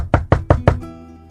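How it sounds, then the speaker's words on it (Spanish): Knuckles rap on a door four times in quick, even succession, sharp and close, followed by a brief fading ring and no speech. "golpeando la puerta con los nudillos"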